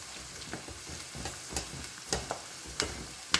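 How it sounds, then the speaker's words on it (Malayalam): Amla, hibiscus, tulsi leaves, curry leaves and other leaves frying in oil until crisp, with a steady low sizzle and a handful of sharp stirring scrapes and clicks spaced through it, nearby, no voices. "നെല്ലിക്കയായാലും ചെമ്പരത്തി മുട്ടായാലും തുളസി ഇല കറിവേപ്പില അതുപോലെ തന്നെ കഞ്ഞിനേല എല്ലാം തന്നെ നല്ലപോലെ ക്രിസ്പി ആവുന്ന പോലെ അത്രയും വരെ ഇളക്കുക"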